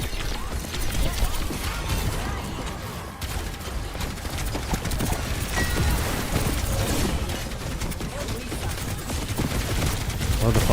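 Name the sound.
gunfire in the video game Overwatch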